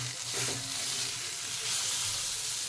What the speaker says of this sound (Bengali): শাকটা একটু কাঁচা কাঁচা আছে আর একটু ভালো করে ভেজে নেব